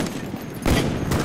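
Rapid gunfire bursts in Call of Duty: Black Ops on the Nuketown map, loud and dense, with a sharper cluster of shots partway through and no clear speech.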